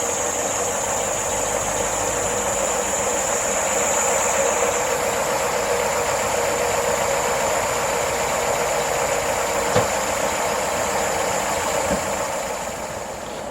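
A BMW R1200RT motorcycle engine ticks over at a steady idle outdoors, a constant mid-level drone with a faint high whine above it and a couple of brief knocks, no voices.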